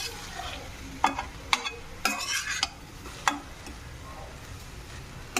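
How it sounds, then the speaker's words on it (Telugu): Grated carrot frying gently over low heat in a pan, stirred now and then with a utensil, giving a soft steady sizzle broken by a few sharp scraping and tapping strokes. "మధ్య మధ్యలో ఇలా కలుపుతూ ఉండాలి."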